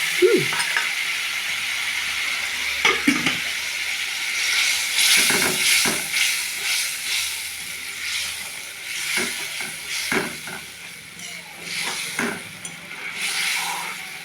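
Spice paste for a catla fish curry sautés in hot oil with a little warm water, giving a steady close sizzle and hiss with scattered stirring scrapes and clinks throughout.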